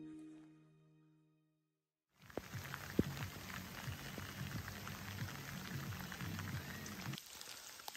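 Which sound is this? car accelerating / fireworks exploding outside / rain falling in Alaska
rain falling in Alaska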